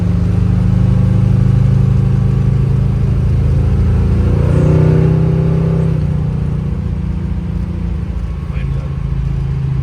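A 1971 Chevrolet Chevelle's engine while driving, a loud close low rumble that rises in a rev around the middle before settling, with a voice talking over it.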